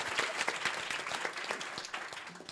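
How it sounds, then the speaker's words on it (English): Audience giving a round of applause in a hall, steady dense clapping from many hands, moderately distant and fairly quiet, with no talk. "yes, please give a round of applause."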